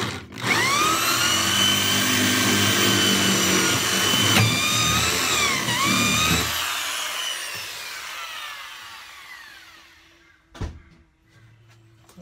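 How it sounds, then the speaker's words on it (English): A power drill boring a hole through a wooden workbench, a loud high whine and grinding cut for about six seconds that winds down and fades, followed by a brief knock and near quiet. "Okay, that's the first hole drilled."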